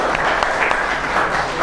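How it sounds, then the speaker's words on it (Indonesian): Brief burst of dense classroom applause from high school students clapping for a presenting student group, steady and close throughout. "Beri tepuk tangan dulu untuk kelompok 3"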